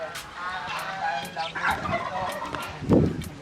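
Birds in an aviary on a rabbit farm, including lovebirds, parakeets and doves, give scattered chirps and calls with a louder burst near the end, while people talk nearby.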